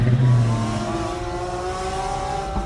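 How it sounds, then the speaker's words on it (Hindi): A taxi engine revs hard as the driver shifts gear and speeds off, a loud, steady motor drone with rising tones near the start, no voices. "गाड़ी का गियर बदलकर वो बहुत तेजी से वहां से गाड़ी लेकर भागा"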